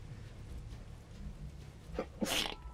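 A single sharp human sneeze bursts out near the end, loud and close, following a brief intake of breath over quiet room sound while someone plays a video game.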